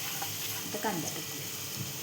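Onion and garlic cloves frying in a pan give a steady, even sizzle throughout, fairly quiet, with a brief faint stir partway.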